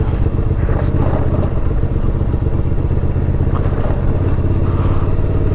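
Adventure motorcycle ridden along a rough, slippery dirt trail near a reservoir in Lamphun, Thailand, its engine droning loud and steady with rattling and clatter from the bumpy ground throughout.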